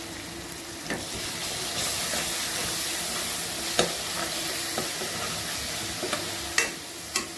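Spinach tossed into a pan of cooked masala for palak khichdi, crackling in a steady close sizzle while a spoon stirs and scrapes with a few sharp knocks against the pan.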